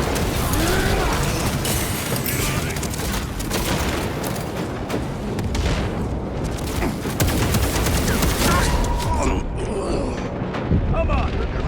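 A frag grenade explosion and heavy gunfire in the Warhammer 40,000 Space Marine II shooter game, with a dense, loud, continuous barrage of blasts and shots and voices heard under the din.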